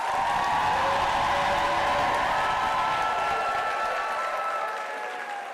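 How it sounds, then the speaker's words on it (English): Sustained applause from a large crowd at a university graduation ceremony, loud and even, tapering off slightly toward the end. "Can I hear better applause for your loved ones?"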